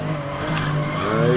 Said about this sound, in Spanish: Ahí frenando.